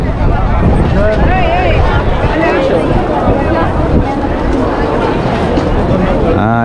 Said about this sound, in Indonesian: Anginnya kenceng ya.